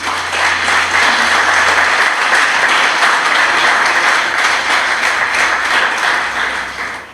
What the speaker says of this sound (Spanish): Si le damos un aplauso al Señor.